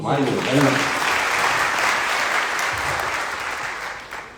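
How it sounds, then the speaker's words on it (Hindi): Loud, dense applause from an audience at a training session fills the whole stretch, steady and close, then thins slightly near the end. "जोरदार तालियां मुझे"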